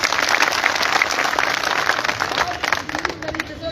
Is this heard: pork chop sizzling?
no